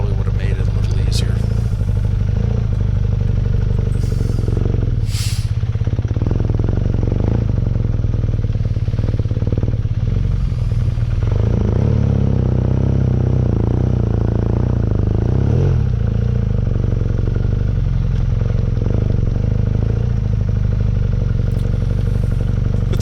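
A BMW RnineT Urban GS motorcycle rumbles steadily and loudly along a river trail, its engine drone constant with clatter and scraping over rough ground, while a rider talks over it throughout.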